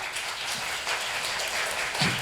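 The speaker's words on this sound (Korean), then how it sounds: "박수 부탁드리겠습니다" Audience applause at a 2020 university admissions concert, a steady, moderately loud patter of many hands clapping together for about two seconds.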